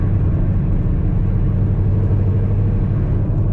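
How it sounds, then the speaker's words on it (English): Straight-piped car cruising at 60 mph in sixth gear, heard from inside as a steady, even low drone of engine and road noise that holds without change for the whole stretch. "I'm gonna put this on 6th gear, cruising at 60"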